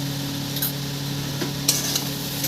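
A spoon stirs boiled moong dal with salt in a pan, with a few soft scrapes and light taps over a steady background hum.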